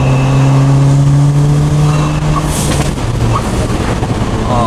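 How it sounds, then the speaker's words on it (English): Hybrid-turbo Ford Fiesta ST driving on backroads, loud steady engine drone with turbo whoosh and spool rising over the running motor, close and continuous throughout. "if there's one thing that I really, really do like about this car, it's the turbo noises"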